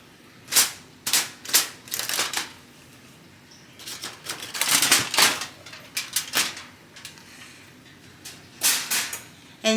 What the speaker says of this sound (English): Okay, so I just took it out of the oven. I'm going to take the foil off.